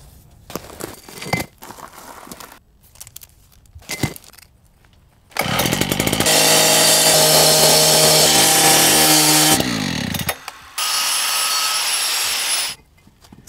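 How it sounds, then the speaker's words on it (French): An angle grinder cutting a paving stone, with scattered handling knocks first, then a loud continuous whining grind that stops, followed by another sustained cutting burst up close. "Coupe le dernier morceau à la bonne longueur avec une meuleuse."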